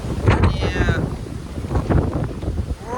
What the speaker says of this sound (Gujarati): પવન છે ને આ કંઈક ગજબ પવન છે